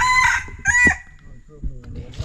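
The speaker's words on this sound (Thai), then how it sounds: "เดี๋ยวไก่ป่าขัน" A junglefowl rooster lets out short, sharp crowing calls up close, two strong bursts followed by fainter clucks and low rustling, with no talk.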